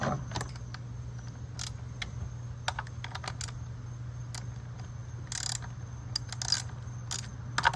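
A socket wrench ratchets in quick, irregular clicks while the chain tension on a chainsaw's bar is adjusted. The clicks are close and fairly quiet over a steady low hum, with no talking.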